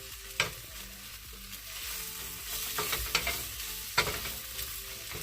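Thin potato chips and egg being mixed as they fry in a pan for breakfast tacos: a continuous close sizzle broken by a few sharp scrapes and taps of the utensil, with no voices.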